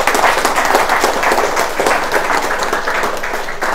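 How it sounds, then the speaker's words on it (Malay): Thunderous applause for an honoured guest at a health product testimonial gathering: loud, dense clapping from a sizeable crowd, sustained and fairly steady throughout with slight surges, no speech on top. "tepukan yang gemuruh untuk Tuan Haji Jamaluddin Haji Gemariah"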